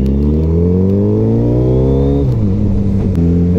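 Suzuki Hayabusa motorcycle engine revving hard as the rider pulls away, a loud close steady roar climbing in pitch, dropping briefly at a gear change, then rising again, with no talking.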